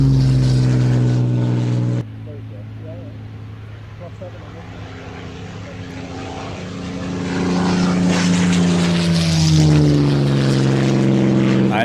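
Propeller warbird aircraft droning at the Victory Show airshow, a loud low engine hum throughout that swells and pulses as it passes, with people talking over it.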